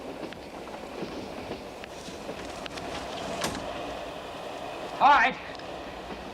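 A train running on rails gives a steady, broad rumble that carries through the whole stretch, with a brief spoken voice over it and a short, louder metallic flare near the end.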